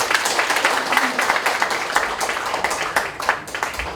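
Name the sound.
applause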